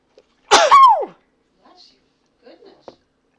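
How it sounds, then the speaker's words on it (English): A single loud, close sneeze bursts out and trails off, followed by faint rustles and small movement noises in a quiet room. "that's the first time I think I've sneezed on this channel"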